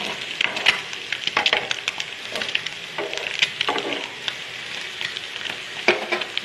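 Eggs fry in a pan with a crackling, spitting sizzle broken by scraping stir and flip sounds, close and moderately loud.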